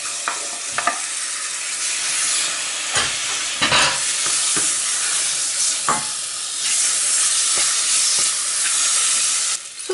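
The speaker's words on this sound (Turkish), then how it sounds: "Devam edin karıştırmaya." A soup with tomato paste, roasted peppers and garlic is stirred in a pot, with steady sizzling hiss and repeated scraping spoon strokes close by and no talking.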